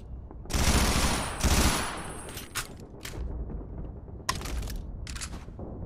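AK rifle fire in the PS5 shooter Strike Force 3 rattles out in loud automatic bursts, a long opening volley followed by shorter spaced strings of shots, crisp and close with little else around them.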